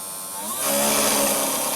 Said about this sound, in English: seems like that little cutter is a bit out of balance